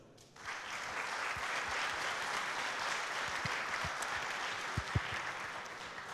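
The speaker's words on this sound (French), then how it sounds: "Je vous demande de l'applaudir." A crowd at a swearing-in ceremony breaks into steady applause that starts suddenly and holds at an even level, with a few louder claps standing out.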